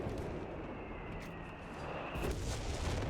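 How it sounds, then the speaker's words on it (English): British artillery barrage in the strategy game Company of Heroes 3, a constant low rumbling roar of shells and explosions, with a heavier burst of impacts toward the end and no talking. "Artillery barrage from the British player going to keep this point under his control."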